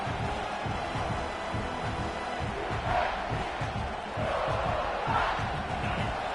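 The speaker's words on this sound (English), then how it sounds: "This crowd trying to make life miserable for this offense." A stadium crowd at a college football game roars in a loud, dense, continuous din that swells twice into bigger surges of cheering.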